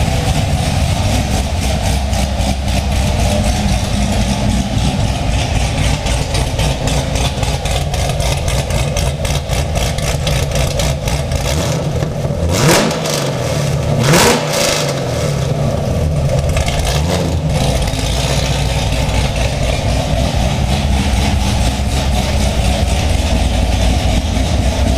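A C6 Corvette with a tuned engine idles steadily nearby, a continuous low rumble throughout, with a few brief louder passes or blips around the middle.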